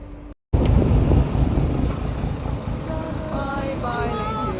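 A boat carries passengers down a river while its engine drones steadily under heavy wind buffeting. A brief dropout comes near the start, and faint tonal sounds rise toward the end.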